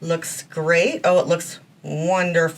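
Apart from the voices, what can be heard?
No everyday noises stand out.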